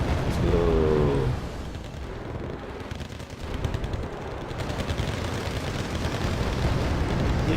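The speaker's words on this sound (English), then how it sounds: "Here comes the bomb." Aircraft bomb explosion in a war video game, a loud booming blast followed by sustained rumbling and rattling gunfire-like crackle.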